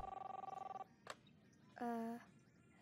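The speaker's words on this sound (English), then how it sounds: "Chris, answer the phone, please. Where's the phone?" A telephone rings in the video game Captain Spirit, a quiet electronic warble that pulses in a rapid trill for just under a second, followed by a brief click and a second, tonal ring burst, all heard faintly indoors.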